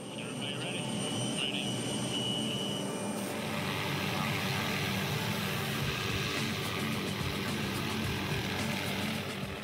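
Continuous loud engine roar of a helicopter close to high-voltage power lines during line maintenance, with a whining tone early on that gives way to broader rushing noise.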